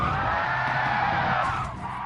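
Racing video game car skidding on tarmac after braking too late before a crest, a continuous loud tire screech over engine noise that eases slightly near the end.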